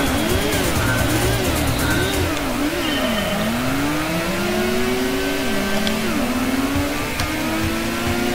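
Race car engines at the start of a Gran Turismo 1 race, a Honda NSX among them: loud, continuous revving with pitch sweeping up and down through gear shifts, several engines layered close together, no voices.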